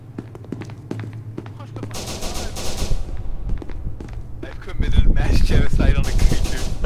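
Gunfire in the video game SCP Secret Laboratory: loud, rapid bursts of shots and a dense volley that grows heavier toward the end, set among game noise.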